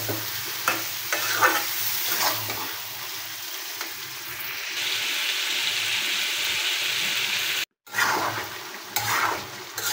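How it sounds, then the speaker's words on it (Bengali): Duck meat is stirred and sautéed in a pan, giving a steady close sizzle with recurring spoon scrapes and clatter, a brief silence near the end, then frying resumes. "মাংসগুলো আমি ভালোভাবে নেড়ে চেড়ে"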